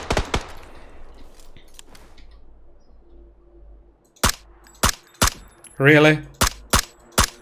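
Sharp, loud gunshots ring out in a shooter game, first a couple early, then a quick series of spaced single cracks with a short buzzing burst among them; a voice speaks briefly.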